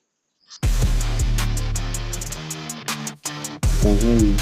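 An AI-generated song from an Android music generator app, playing electronic music with a steady pounding beat, bass and synth layers, briefly cutting out before resuming, heard clearly without talk.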